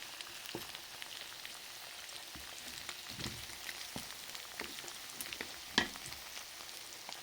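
Food in a kawali fries with a soft, steady crackling sizzle, broken by light taps and one sharper clack as it is flipped; no one speaks.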